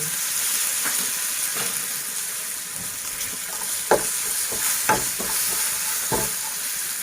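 Hot oil sizzling steadily with spices and chopped mint crackling in a tadka for dal, punctuated by occasional clinks of a spoon stirring in the pan, close by.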